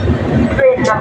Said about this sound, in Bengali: দেখো ট্রেনটা বেরোতে বেরোতে আবার রুকে গেল